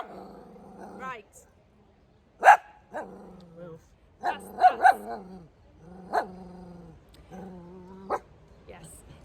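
Dog barking and growling at another dog walking past near a parked motorhome, several loud sharp barks spaced between tense growls, close by, with people talking.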